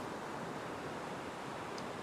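Ocean waves breaking on a beach near a reef make a steady, broad wash of surf, distant and even, with no voices.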